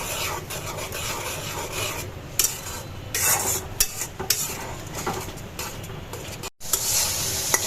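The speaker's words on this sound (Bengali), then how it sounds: "এখন মশলাটা কষায় নিতে হবে।" Spice masala with ground coriander is stirred and fried in a pan for a fish curry cooked meat-style. A spatula scrapes and rubs steadily against the pan over a low sizzle, with sharper scrapes and a brief near-silent gap.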